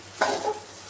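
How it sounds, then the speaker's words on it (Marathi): Chinese-style fried rice with veggies and paneer is tossed in a pan, a single brief scraping stir over a faint sizzle. "राईस चांगला परतून घ्यायचा आपल्याला"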